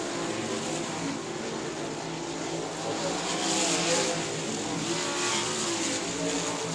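Race cars roar around the oval at South Texas Speedway, a dense, continuous engine drone with rising and falling revs as several cars pass, loud and steady with no talk.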